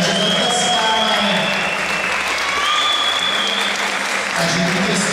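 Loud, dense applause from a kickboxing crowd after a women's fight decision in the ring, sustained throughout with whistles and scattered cheers mixed in.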